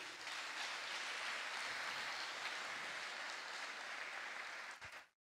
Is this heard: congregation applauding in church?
yes